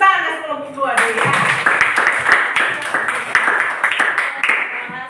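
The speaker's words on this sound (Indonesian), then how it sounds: "tepuk tangan kelompok 2 dulu ya" A classroom group gives a round of applause for a student group that has just presented, dense clapping filling the room steadily after a brief moment of speech at the start.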